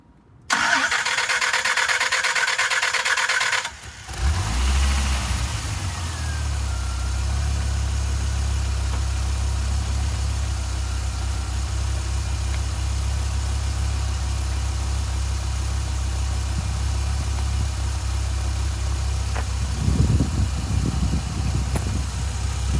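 A Dodge Viper's engine cranks and fires up close by, then settles into a deep, steady low idle that rumbles evenly for nearly twenty seconds, with a faint extra clatter near the end.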